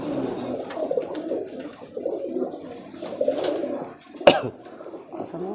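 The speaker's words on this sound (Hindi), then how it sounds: "कबूतर है।" Caged pigeons coo in soft repeated low murmurs at close range, with a sharp knock or clatter near the end and voices talking quietly in the background.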